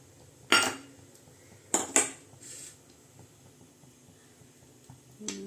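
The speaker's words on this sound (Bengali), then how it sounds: "এইবারে আমি কড়াইটা বসিয়ে দেবো, চাটুটা।" A kadai (chatu) is set down on a stove in a home kitchen, giving a few sharp metallic clanks, one near 0.5 seconds and a quick pair near 2 seconds, with a faint knock at the end against a quiet room.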